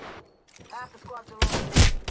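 A loud burst of video game gunfire from Apex Legends erupts at the end, after a stretch of quieter game sounds and brief voice-like effects.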